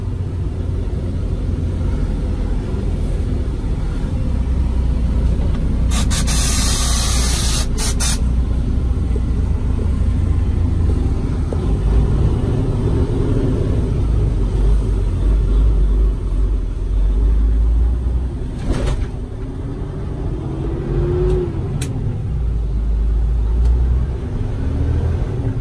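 A 2011 Freightliner Cascadia 125 truck cruises down the road with a loud, continuous low engine rumble and road noise. A few brief clicks and a short rattling burst break in partway through.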